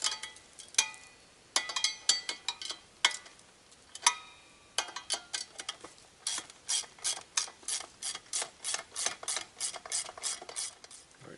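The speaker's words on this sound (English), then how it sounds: "All right, hardware comes off. The nuts come off. Washers come off." Nuts, washers and hardware being taken off a steel target plate outdoors on an overland shooting course, heard as a long series of sharp metallic ratcheting clicks in bursts, close and fairly loud with short pauses between runs.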